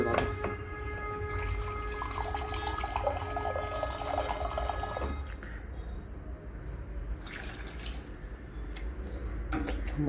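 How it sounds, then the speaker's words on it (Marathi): Water poured into a container with cucumber, beetroot and carrot for a dragon fruit drink, a close gurgling splash for about five seconds, then quieter handling and clinks. "थोडं पाणी घेऊ आपण याच्यात आता."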